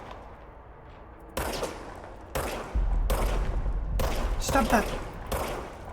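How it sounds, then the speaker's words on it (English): An energy weapon fires in the video game Control, with several heavy bursting blasts that come at uneven intervals over a low rumbling backdrop. A person speaks briefly between the shots. "it's like an energy weapon, it recharges"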